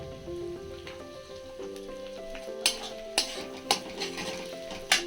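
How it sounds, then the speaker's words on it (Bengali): Sliced onions, green chillies, ginger and garlic sizzle in a frying pan for paneer butter masala, with a spoon scraping and clanking against the pan several times over music. "এই পেঁয়াজ, কাঁচা লঙ্কা আর আদা আর রসুন সব একসাথে দিয়ে একটু নাড়াচাড়া করে নেব।"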